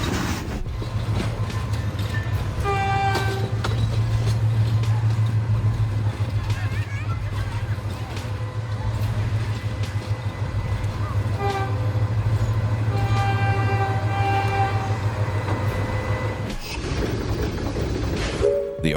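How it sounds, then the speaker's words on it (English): A train rolls through without stopping, its loud continuous rumble and rattling wheels mixed with repeated horn blasts, while a voice talks over parts of it. "As the train rolls through without stopping"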